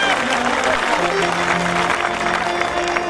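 An audience claps loudly and continuously at a live outdoor stage show of a singer in Mamdot, Ferozpur, with the crowd noise steady throughout and a voice heard faintly beneath it.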